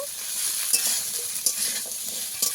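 Potatoes and drumsticks frying together in a pan produce a close, continuous sizzle with a few sharp stirring scrapes, and no voices are present.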